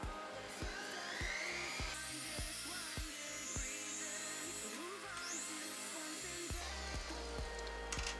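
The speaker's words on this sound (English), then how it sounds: "I'm gonna clean up the inside with these little" A rotary tool fitted with small Scotch-Brite pads scrubs the inside of a handmade ring, giving a faint, steady whine with rising and falling pitch and repeated light ticks as it touches the metal.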